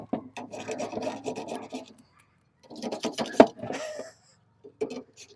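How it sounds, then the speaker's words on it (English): Kids and a guinea fowl make a busy mix of background noise outdoors: scratchy, chattering bursts come in uneven clusters with short pauses between them, at moderate loudness. "Between the kids and my guinea, there's a lot of background noise."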